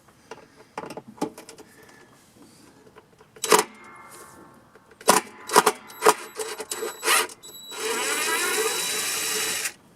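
Screws are worked loose from a washing machine with a power driver, giving short whirring bursts and clicks separated by pauses, followed by a longer steady whine near the end.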